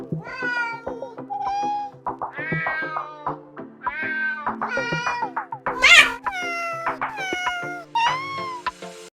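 Several cats meow one after another, a busy run of loud, close, wavering calls, some drawn out into yowls, with no talking over them.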